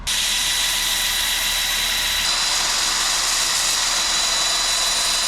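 Sanding the inside of a Russian olive wood live edge bowl spinning on a wood lathe, a loud steady whir and hiss that holds on without pause, with no talking.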